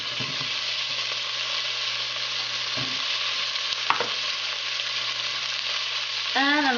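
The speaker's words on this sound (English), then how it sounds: "I'm going to add some potato." Potato frying in a pot for a Somali rice and meat dish, an even, steady sizzle with a few brief clinks and scrapes of stirring near the end.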